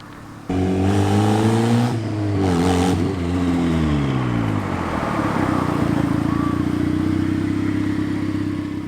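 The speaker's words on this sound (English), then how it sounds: "That turbo sounds pretty damn good." Turbocharged Mazda Miata engine revving loudly and close, with strong rising and falling harmonic tones as the revs climb and settle into a steady high idle drone.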